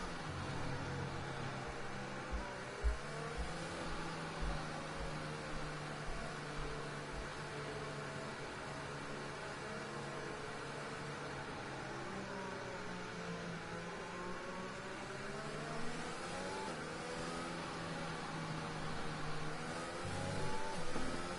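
Race cars rolling through a formation lap fill the air with a continuous layered engine drone, pitches rising and falling as throttles are blipped and gears change, with occasional sharper revs and no talking over it.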